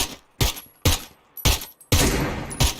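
Gunfire in the PUBG battle royale video game rings out as four or five sharp, loud shots spaced about half a second apart, with the last one trailing into a longer echoing tail.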